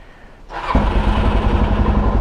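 A motorcycle engine cranks and catches, settling into a loud, close, throbbing idle after a brief quiet start.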